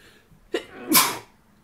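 A single close sneeze from a person during a tabletop card game, a short intake followed by a sharp burst, alone with no talk over it.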